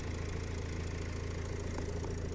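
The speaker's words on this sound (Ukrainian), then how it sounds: "Дуже гарна робота мотору" The cold 2.0-litre diesel engine of a 2012 Renault Trafic van idles steadily and close by, a low rhythmic chugging with a slight knocking clatter, unchanging throughout.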